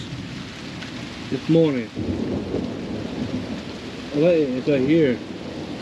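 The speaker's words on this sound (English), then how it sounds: "It's morning rain and morning thunderstorms." Morning rain and a thunderstorm make a steady broadband wash, heard under a voice that speaks twice, in short bursts.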